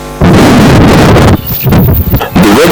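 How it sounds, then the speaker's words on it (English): Chilly wind gusts across an open wheat field in Jigawa State, Nigeria, as loud, close, rumbling buffeting that rises and falls over a few seconds. "The weather in Jigawa State is chilly and windy"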